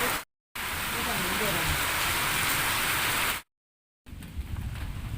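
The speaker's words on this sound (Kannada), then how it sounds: "ಇವತ್ತಿನ ತೊಂದರೆ ಇಲ್ಲ ನೋಡಿ ಚಂದದ ಮಳೆ" Steady rain falls in a village yard near a cattle shed in coastal Karnataka, a dense even hiss broken by two short cuts of silence, then softer rain to the end.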